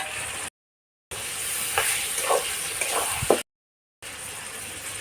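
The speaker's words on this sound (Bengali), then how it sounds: "পেঁয়াজটা নরম করে ভাজে নিলাম এলা শামুকগুলো দিয়ে দাও" Snails sizzle and crackle in hot oil with softened onion and whole garam masala, a close, bright frying hiss with spoon scrapes and stirring clatter, briefly cut to silence twice.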